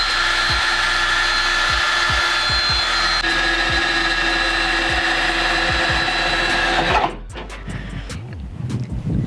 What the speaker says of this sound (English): step one is we take a drill and we drill a hole.